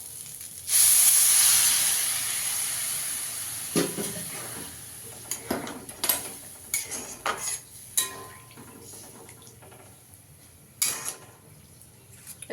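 Hot water poured into fried rice for chicken pulao sets off a sudden loud hiss and sizzle that fades over a few seconds, followed by scattered clinks and scrapes of a utensil against the pot.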